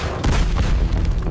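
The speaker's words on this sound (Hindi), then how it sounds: "एक धमाका और बूम" A single deep explosion boom, such as a drone strike blowing apart a wooden boat at sea, rumbles loud and close with broadband low-end energy, then sustains as a rolling roar before trailing off.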